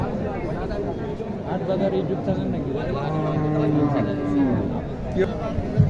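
Cattle moo nearby at a cattle market in Naogaon, in low, drawn-out calls while people talk over them.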